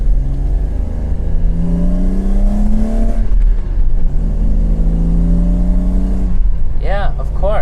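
A BMW E34 M5 with a manual gearbox and a standalone ECU, its engine droning and rising in pitch, dropping at a gear change and then revving up again, heard from inside the car with a person talking over it.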